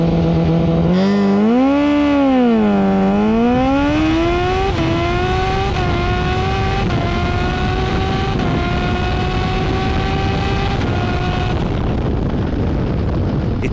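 A loud Yamaha FZ1 motorcycle engine screams up through rapid gear shifts on a drag racing launch, revs climbing and stepping down repeatedly, close and dominant before cutting off near the end.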